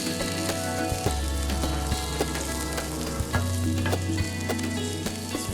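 Cabbage frying in a pan with crushed berries, a steady dense sizzle running the whole time with a few light clicks and stirring knocks, close and moderately loud, no talking.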